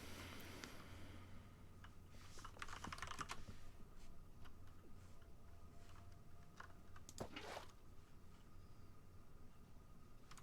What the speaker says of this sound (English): so my typing is not that great